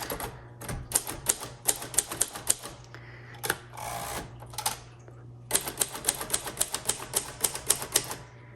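A 1952 Royal Quiet Deluxe typewriter being typed on, with rapid, loud key strikes in quick runs, a brief pause and what sounds like a carriage movement midway, then more brisk close typing.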